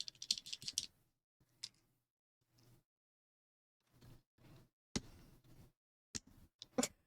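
Bursts of rapid clicking keystrokes on a Hiexa V80 computer keyboard during a typing test, close and crisp, separated by short quiet pauses.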